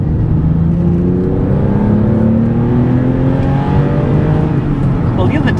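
A Porsche Boxster engine is revved hard in second gear, a loud, steady rising engine note that climbs in pitch throughout, with clear harmonic sweeps and constant close-up cabin roar.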